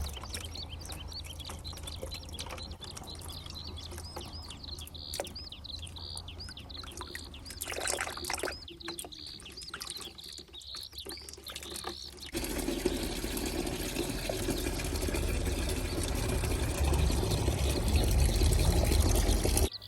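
Tap water pouring over a diseased orchid being washed, a steady splashing flow that grows louder and fuller midway, with faint bird chirps in the background and no talk.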